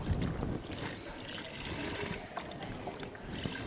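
A litre of homemade chicken stock poured into an Instant Pot for Mexican soup, a soft, continuous liquid trickle heard faintly and close by.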